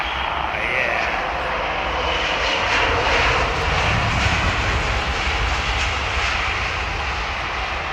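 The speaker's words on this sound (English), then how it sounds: "She must be running Trent 8s because you can hear the hum." Boeing 777-200 airliner with Rolls-Royce Trent 800 engines at London Heathrow Airport, a loud, steady jet roar and hum that holds throughout, with faint voices underneath.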